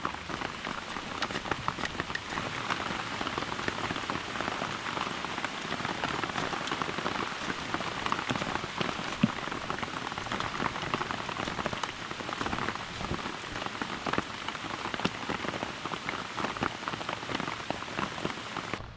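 Steady rain patters on surfaces all around a small campfire site in the woods, a dense even hiss with scattered drips, no voices.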